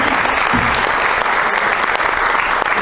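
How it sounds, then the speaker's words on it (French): Steady, dense applause from an audience, loud and unbroken for a few seconds. "Je crois qu'il faut applaudir très très fort Annie Morvan pour sa venue parmi nous."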